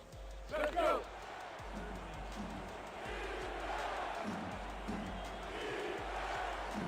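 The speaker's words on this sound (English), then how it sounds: "You hear the Denver crowd coming alive." Denver home crowd at a football stadium swells into a broad, building roar, moderately distant, with a brief whistle-like shout early and thuds underneath.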